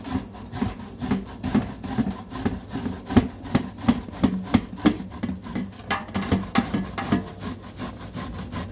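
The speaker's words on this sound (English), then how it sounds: "Now we're gonna grate our zucchini." Zucchini being grated on a hand grater for a homemade preserve, a rapid rhythmic series of rasping scrapes, steady and close, with no talk.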